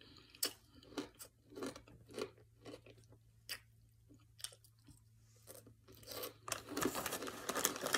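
Crunchy pigless pork rinds being chewed up close, a steady run of sharp crackling bites and crunches that grows denser and louder toward the end, with no talking.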